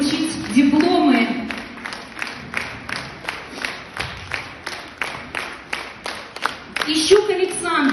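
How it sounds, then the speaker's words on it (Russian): An audience at a diploma award ceremony claps in a steady rhythm, about two claps per second. Voices and crowd noise rise at the start and again near the end. "Ну и под ваши аплодисменты мы хотим вручить дипломы"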